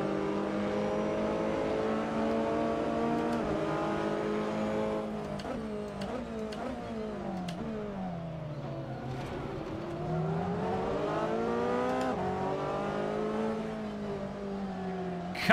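GT3 race cars lap the Nurburgring in Assetto Corsa, engines droning and rising and falling in pitch through gear changes, with a commentator's voice occasionally heard in the background.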